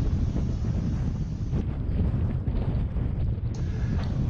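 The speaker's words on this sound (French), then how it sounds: "un vent très important de l'ordre de 35 nœuds" Strong wind of about 35 knots buffets the microphone on an airfield runway at Castejón de Monegros, a steady, loud rushing roar that runs unbroken throughout, with no voices.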